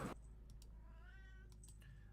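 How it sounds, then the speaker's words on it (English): A house cat gives a single drawn-out meow in the background, faint and close, with a few light clicks around it. "if you hear my cat in the background,"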